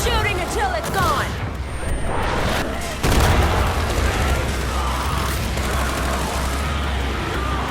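Gunfire and booming blasts fill a fight in the co-op shooter John Carpenter's Toxic Commando, a dense, continuous roar of shots and explosions with a louder burst partway through and a voice faintly underneath.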